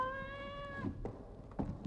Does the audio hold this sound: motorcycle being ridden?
no